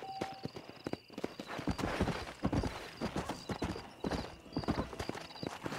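Horse hooves clip-clopping in the Red Dead Redemption Enhanced video game on Xbox One X: a quick, steady run of hoofbeats on the ground, close and continuous throughout, with a brief whinny-like tone and no talking.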